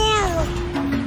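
A voice imitates a cat's meow, a single drawn-out, falling mew lasting about a second, loud and close.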